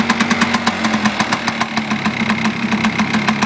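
Polaris Xplorer 400 ATV engine idling after a long layoff, a close, loud, rapid knocking putter with a steady uneven pulse, with no voices over it.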